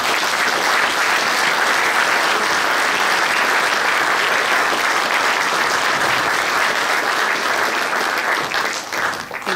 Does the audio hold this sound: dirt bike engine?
no